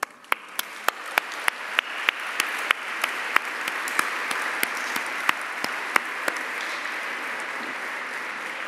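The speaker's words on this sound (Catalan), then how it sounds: "m'agradaria demanar-vos a tots un aplaudiment per a vosaltres mateixos" Steady applause from an audience at a graduation ceremony, with several sharp individual claps standing out near the front over a dense wash of clapping.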